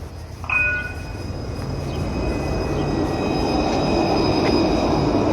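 A city tram rolls past close by, its steady rumble swelling with a bright metallic squeal and ringing tones near the start, then a continuous loud roar of wheels on rails.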